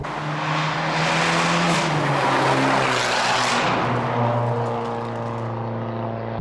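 A loud stage 2 tuned Abarth car engine revving hard nearby, a sustained raspy roar that rises and sweeps in pitch, then settles into a lower droning note, with no voices.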